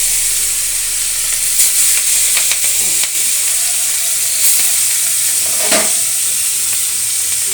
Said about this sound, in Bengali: এবার আমি বাকি মাছটাও তেলের মধ্যে দিয়ে দিলাম।